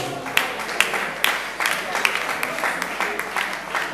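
Festival crowd applauding at an awards moment, moderate clapping with a few sharp individual claps standing out, fairly quiet and steady throughout.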